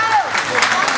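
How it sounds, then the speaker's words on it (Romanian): Audience at a singing festival contest in Craiova applauds a young singer, brief crowd clapping and cheering over a voice on the sound system. "vă rog să o aplaudați"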